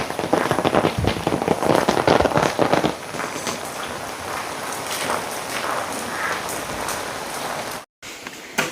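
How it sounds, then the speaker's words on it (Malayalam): Heavy rain pouring down around a house with water running along the road, a loud dense roar with sharp splashing patter at first, settling into a steady hiss, no voices. "അത്ര ശക്തിയായിരുന്നു മഴ പെയ്തിരുന്നത്."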